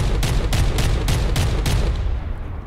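A 406mm big bolter APS cannon in the game From The Depths fires a rapid string of about seven heavy booming shots in steady rhythm, loud and close, then fades into a rumbling tail.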